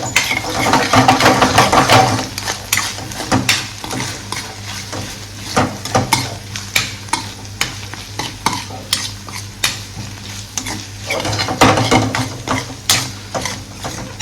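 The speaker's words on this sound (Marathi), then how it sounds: "आता याला नीट मिक्स करून घेऊया" Oyster gravy with onion and ginger-garlic paste is stirred in a pan, with repeated scraping strokes of a spoon against the metal over a steady sizzle of frying, all up close and with no talking.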